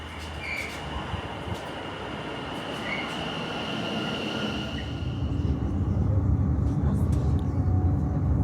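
A train rumbles at Birmingham New Street station, its low roar building steadily, with a faint high squeal and background murmur.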